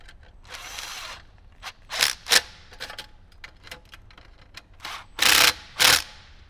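A power tool driving bolts to mount an Alpine i509 car stereo head unit for a Jeep Wrangler JL, with several short whirring bursts separated by pauses and handling noise, the last two loudest.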